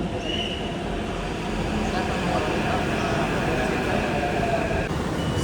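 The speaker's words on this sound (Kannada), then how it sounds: "ಬಂತು ಗಾಯ್ಸ್ ಮೆಟ್ರೋ" A Hyderabad Metro train arrives, rumbling steadily and loudly nearby, a continuous rolling roar with a faint high whine running through it.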